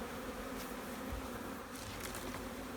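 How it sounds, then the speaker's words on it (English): A steady, dense buzz of many honey bees at a beehive on a honey farm, continuous and close, filling the whole stretch without pauses. "Just the sound of the bees today is a happy sound."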